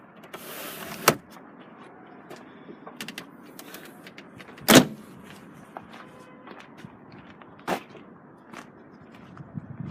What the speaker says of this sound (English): Luggage cover.